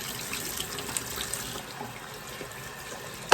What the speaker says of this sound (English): Rinse that real good.